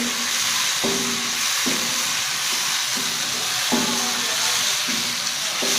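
Onions frying in a pan while cooking vegetable pulao give a loud, continuous close sizzle throughout, with a few faint clinks and stirring scrapes beneath the hiss and no one speaking.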